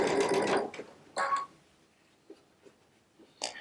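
A Baby Lock Solaris sewing machine with a 1/4-inch piecing foot stitching fabric pieces together, heard as short bursts of rapid mechanical whirring separated by quiet pauses and a few faint clicks.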